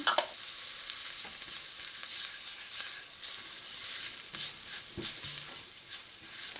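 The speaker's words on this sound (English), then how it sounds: "Just let this toast in here for about a minute" Scallions with curry and geera powder toasting in a pan, giving a steady close hiss of frying with occasional stirring scrapes.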